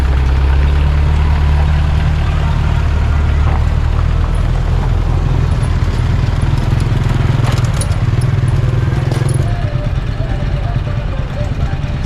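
A long-tail boat engine drones loudly and continuously nearby, a low chugging roar that holds steady throughout.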